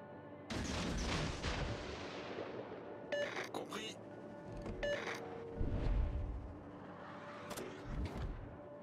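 Enemy ship firing a full broadside in a naval battle game: a dense opening roar of booming gunfire followed by repeated sharp blasts and rumbling impacts spread across the clip, loud and continuous with game effects layered in.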